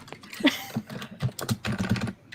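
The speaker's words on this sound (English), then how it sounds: "Is someone typing?" Uneven bursts of clacking keystrokes, close and moderately loud, tapping in quick irregular runs with short pauses.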